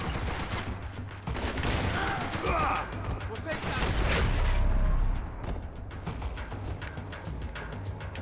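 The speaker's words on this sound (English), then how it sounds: "most of them are now using what is essentially an MP5" Rapid submachine gun fire from MP5s in Max Payne 3, with dense overlapping bursts in tight corridors, loud and sustained, mixed with muffled in-game voices.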